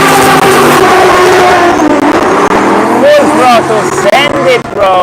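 A drift car at full throttle chased by a pink BMW at a drift practice session in Cyprus: loud roaring engines with rising and falling revs under continuous talk.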